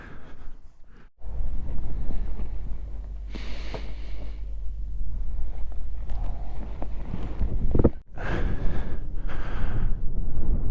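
Strong wind buffets the microphone in the Atacama Desert, a steady loud low roar with gusts surging and easing across the whole stretch, briefly dropping out near the start and again toward the end.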